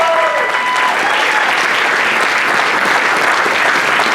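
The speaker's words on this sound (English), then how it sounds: "Please give them a big round of applause." Steady, loud applause from an audience fills a Diwali cultural program in Panama City, Florida, a dense wash of clapping that holds evenly throughout.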